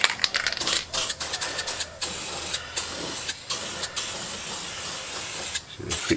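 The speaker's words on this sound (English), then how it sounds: "we spray it, touch it up with these cans." Aerosol spray cans hiss in short and longer bursts while touch-up paint goes onto a car panel being repaired, each spray cutting off abruptly between pauses, close and moderately loud.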